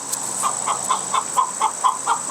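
Hens cluck at egg-laying time in a series of short, agitated calls repeating every fraction of a second, close by, with a faint steady hum underneath.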